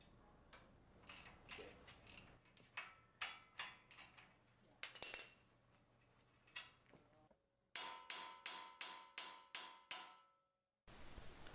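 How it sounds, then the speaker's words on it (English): Sharp metallic strikes ring out in irregular bursts, then a steady run of about six evenly spaced hammer blows on a 2012 GMC's tie rod end taper, close and loud. "using a hammer break the taper fit loose and remove the tie rod end"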